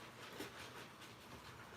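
Class 66 locomotive on a model railway, a faint steady rumble and clickety-clack of wheels on track running continuously.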